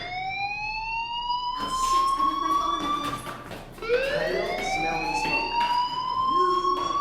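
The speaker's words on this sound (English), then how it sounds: "do you hear that fire alarm?" A wailing fire alarm sounds in the video game Life is Strange, its tone sweeping upward, restarting and climbing again, loud and alone.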